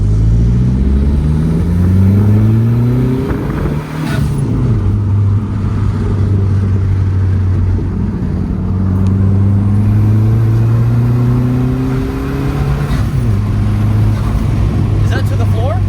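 A Dodge Neon SRT-4 accelerating hard from inside the cabin, its engine note climbing loudly through several gear pulls with brief dips at shifts, continuous and close throughout.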